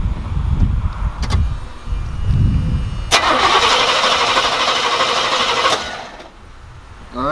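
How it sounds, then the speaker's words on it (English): A Cutlass with a 350 Rocket engine, started after sitting seven years with a new belt fitted, cranks with rhythmic starter churning and then catches into a loud, rough running roar close by. "Looking good, it's cranking."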